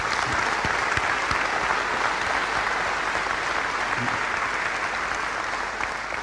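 A crowd applauds at the DrupalCon London 2011 keynote, a broad, even roar of clapping that holds steady for several seconds and eases slightly toward the end.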